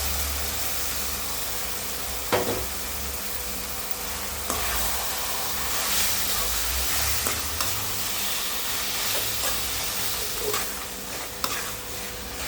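Marinated chicken coated in tomato and onion paste frying in a pan, a continuous loud sizzle with occasional utensil scrapes and a low rumble underneath.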